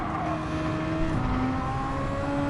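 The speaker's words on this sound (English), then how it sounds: "This car sounds so good" A Formula 1 car in a 2022 Austrian Grand Prix video game, its engine a loud, continuous high-revving whine with pitch slowly shifting as it runs.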